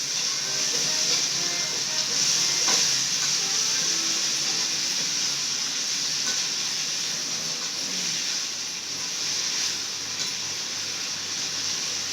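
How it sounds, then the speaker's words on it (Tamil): Bitter gourd sautéing in a hot pan gives a steady, dense hiss and sizzle that holds at an even, fairly loud level throughout, with a few faint knocks and no voices. "வதங்கிட்டோங்க பாவக்காய் மட்டும் நல்லா வதங்கணும்"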